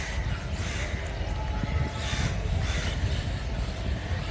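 A train runs along the rails with a continuous low rumble and rolling wheel noise, a close and fairly loud steady roar that swells slightly in places, with no talking.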